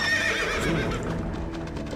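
A companion cavalry horse in the game Empire Earth whinnies once, loud and close, with a brief clip-clop of hooves beneath it and no talking.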